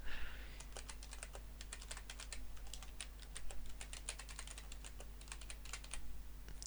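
Typing on a computer keyboard during a racing stream, a close, quiet run of irregular key clicks arriving in quick bursts over a low steady hum.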